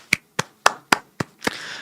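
Six sharp hand claps ring out in quick, fairly even succession, close and distinct, the last one trailing into a brief broader burst.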